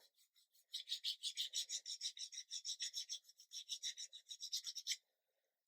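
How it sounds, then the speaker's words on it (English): Rhythmic rasping strokes of the fine side of an emery board skimming a plastic model truck cab part, about twenty short close-up scrapes in a steady back-and-forth rhythm, then silence. "very fine side of the emery board, or a fine sanding stick of your choice. I'm just going to skim along the top"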